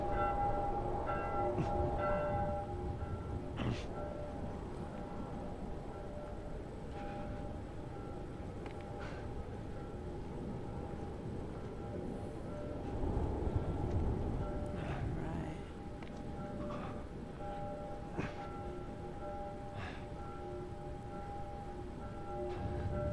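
Bell in the video game The Last of Us rings out with repeated sustained metallic tones over a low rumbling ambience, moderately distant, with occasional faint speech mixed in.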